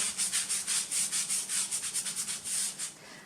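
Wet wipe rubbed back and forth over a soft pastel underpainting on paper, a steady series of close, soft swishing strokes in quick rhythm, with no voice.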